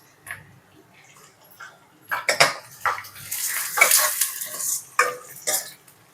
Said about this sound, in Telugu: ఆనియన్స్ లైట్గా వేగినాక ఎగ్స్ వేసుకొని వేయించుకోవాలి.